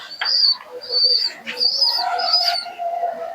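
Pigeons kept in a cage for sale, making a few close, soft calls with brief chirpy notes over roughly three seconds, with faint background activity.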